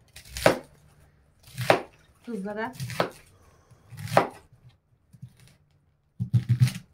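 Four sharp knife chops through beets on a board at an uneven, unhurried pace, with a brief spoken word between them and a muffled thud at the end.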